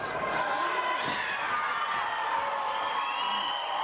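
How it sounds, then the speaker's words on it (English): A professional wrestling crowd roars and cheers through a match, with a dense, steady wash of shouting and whooping from a large audience that stays loud throughout, without a clear single voice on top. "And the crowd's going bananas."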